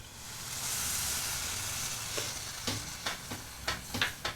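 Coconut milk is poured into a hot pan of frying egg masala, a swelling sizzle easing into soft hiss, then a series of close scraping stirs toward the end.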